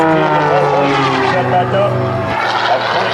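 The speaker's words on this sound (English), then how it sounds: "Slam that around the cockpit of the airplane as it turns and hangs in the air." A CAP 580 aerobatic propeller plane flown by Matt Chapman at the 2011 Wings Over Wayne airshow roars steadily and loudly through maneuvers, its engine drone shifting pitch, while an announcer speaks over it.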